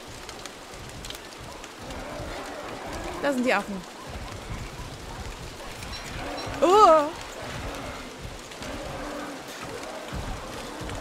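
Steady hiss of rain falls through a jungle scene in the video game Don't Starve: Hamlet, a soft continuous wash beneath someone talking in German, with a couple of brief creature calls cutting through.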